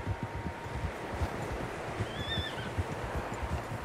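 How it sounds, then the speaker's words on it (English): Several horses in the Red Dead Redemption 2 video game snort and give a whinny while their hooves clop unevenly over the ground in a wild outdoor setting, moderately close, with no talking. "Horses, quite a few of them."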